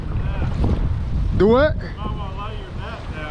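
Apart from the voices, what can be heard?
strong wind on the water while fishing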